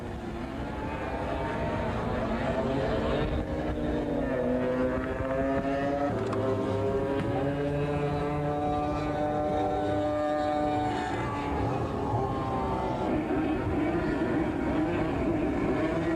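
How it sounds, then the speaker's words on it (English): Go-kart engines at a 1985 championship kart race on Maui drone steadily throughout, a loud continuous multi-engine buzz with shifting pitch as karts line up and run, with a voice faintly in the mix. "Our karts are lined up for the final"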